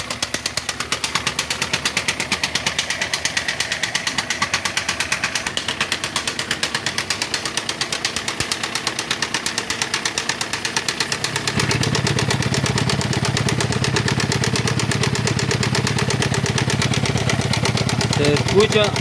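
A car engine idles with a steady rapid knocking, suspected broken piston rings; the even ticking beat runs close and loud, growing heavier and deeper partway through as the engine note thickens.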